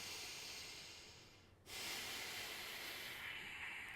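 Deep, steady breathing during an abdominal exercise, a broad airy hiss that fades briefly near the midpoint and then returns louder and continuous, close and alone with no talk.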